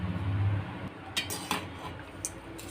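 A spoon stirs cooked rice with oil, peanuts, urad dal and chana dal in a bowl for temple-style tamarind rice, giving a few soft scrapes and light clinks against the bowl over a low, quiet background.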